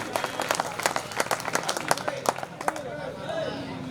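An audience applauds at a mushaira poetry gathering in Dharampuri, Madhya Pradesh, a burst of many hands clapping with crowd murmur that fades out after about three seconds.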